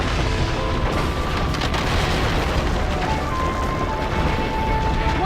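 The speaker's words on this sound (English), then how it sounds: "The ceiling's totally coming down!" A ceiling caving in during the Ben 10 Ultimate Alien: Cosmic Destruction video game, heard as a dense, continuous rumbling roar of crumbling debris and blasts, loud and sustained throughout.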